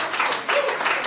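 A conference audience of accounting professionals gives a short burst of clapping in a brief run of overlapping hand claps.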